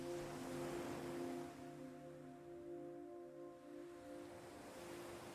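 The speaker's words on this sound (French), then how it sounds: "au moment où la vague vient caresser le sable fin et s'étire" Gentle ocean waves wash onto a sandy beach in a steady, soft surge that swells and recedes, heard alone with a calm background hum and no voices.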